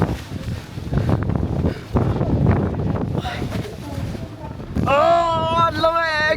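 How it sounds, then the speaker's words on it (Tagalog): Strong wind buffets the microphone in heavy, rumbling gusts on the summit of Fansipan mountain in Vietnam while people talk and shout over it, a voice rising high near the end. "Grabe yung hangin!"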